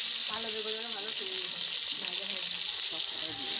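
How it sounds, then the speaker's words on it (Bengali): White eggplant fries in oil in a pan over a wood fire, a loud, steady sizzle right up close, while a voice talks over the hiss. "কাঠের জালে বেগুন ভাজা তো"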